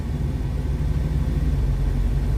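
A truck's engine rumbles low and steady near a federal courthouse in Washington DC, close and continuous for a couple of seconds with no voices.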